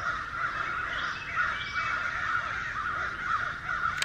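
Crows caw repeatedly from somewhere in the trees, a steady overlapping chorus of harsh calls at middle distance with no pause.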